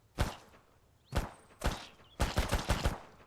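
Pistol shots fired at zombies in the survival video game Mist Survival: a sharp single shot, another about a second later, then a third, followed by a rapid burst of four or five shots close together, loud and near.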